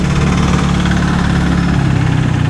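A TVS Ntorq XT 125 scooter engine idling close by, a loud steady low chugging throb that continues unbroken and stays alone without speech.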